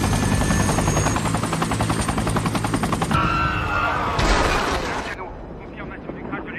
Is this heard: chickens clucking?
no